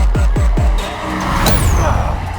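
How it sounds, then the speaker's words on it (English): A purple Rimac Nevera electric hypercar launches hard from a standstill, a loud near rising whine and rush building over a couple of seconds, with low thumps at the start. "Purple Rimac, this car is so damn quick."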